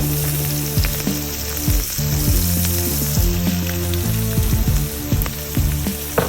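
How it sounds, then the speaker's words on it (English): Chicken fried rice sizzles loudly and steadily in a hot pan, with a continuous hiss broken by scattered clinks and stirring scrapes throughout. "All right, you hear that sizzle? We are cooking now."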